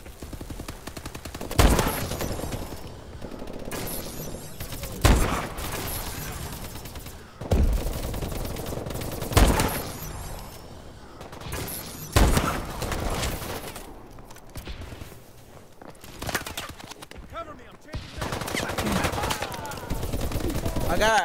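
Video game gunfire with repeated sharp shots and rapid bursts recurring every few seconds, loud and close, layered over busy game sounds and shouted voices.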